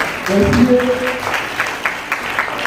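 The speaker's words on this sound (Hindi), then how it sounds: "बहुत सी जोर से ताली आ रही है" A crowd claps loudly, with a brief burst of voice near the start, then the applause thins into scattered, fading claps.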